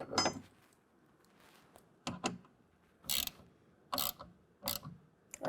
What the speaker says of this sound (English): now we're going to go ahead and run that down with a 4mm Allen wrench.